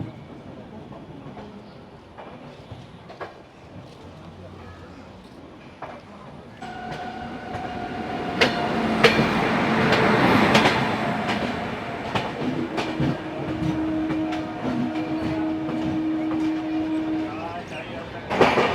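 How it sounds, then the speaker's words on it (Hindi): A train rumbles past with clattering wheels while overtaking a local train near Tilak Bridge. The rail noise swells midway with steady tonal whines and sustained mechanical hum. "तो हमारी ट्रेन भाई ओवरटेक करते हुए लोकल ट्रेन को तिलक ब्रिज से।"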